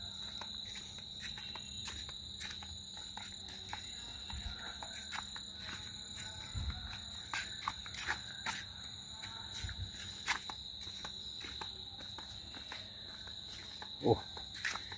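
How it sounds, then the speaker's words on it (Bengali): Crickets chirp at dusk in a village beside rice fields and a banana grove, a steady high-pitched trill that carries throughout, with faint footsteps and small rustles beneath. "ঝিঝি পোকারা ডাকবে।"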